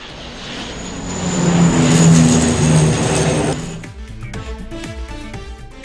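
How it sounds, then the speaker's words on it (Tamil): Canadair firefighting aircraft flying near Paris over the Seine, a steady propeller-engine drone that swells and fades, then cuts into unrelated broadcast sound. "பாரிஸ் பகுதியில் முதன்முறையாக கனடைர் ரக தீயணைப்பு விமானங்கள் வரவழைக்கப்பட்டு"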